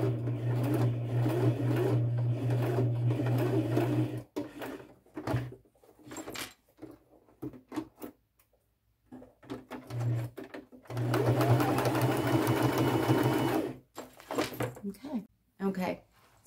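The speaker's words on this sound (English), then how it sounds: "And I'm just going to sew all the way around." A sewing machine stitches around a fabric and leather bag with a steady, close buzzing hum, stops and restarts in short bursts, then runs long again, with a voice talking during the pauses.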